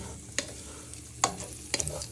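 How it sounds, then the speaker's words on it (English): Chorizo fries in a pan with a moderate, even sizzle, broken by three sharp scrapes and clacks of stirring against the pan. "Now you want to start frying your chorizo, shallot and garlic."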